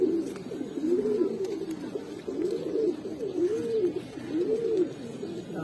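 Large Giribaz pigeon being handled at a seller's place, cooing in a regular series of rounded, rolling calls, close and moderately loud over a faint background hiss.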